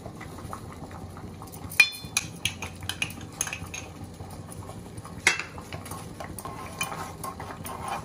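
A spoon stirs papaya juice into melted glycerin soap in a bowl, with a series of light clinks and scrapes against the vessel, a few sharper knocks standing out over a soft, steady background.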